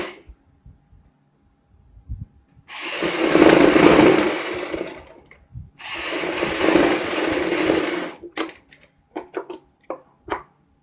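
A sewing machine stitches a jacket in two sustained runs of loud, buzzing motor noise with a short pause between them. Scattered clicks and handling taps follow at the end.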